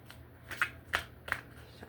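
Tarot cards being shuffled by hand, three crisp riffling bursts spaced evenly about a third of a second apart over a low steady hum, close and fairly quiet.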